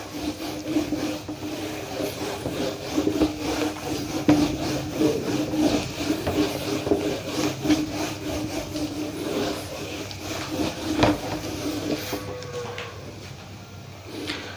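Steady scraping rub of a duster wiping writing off a classroom board, a continuous dry swishing at close range with a few sharper strokes and no talk.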